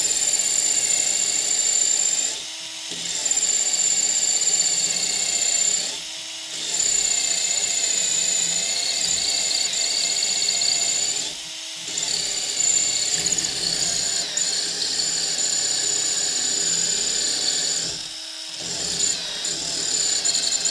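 A power drill fitted with a 10 mm glass bit bores steadily into stone brick, a loud continuous high-pitched grinding whine broken by four short pauses where the drill stops and restarts.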